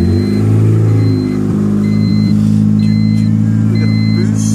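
A modified Honda Civic with a D16 engine, large injectors and an aggressive cam, running with a loud steady mid-pitched drone and slight lumpy surges, close by, with faint tones over it and no speech heard.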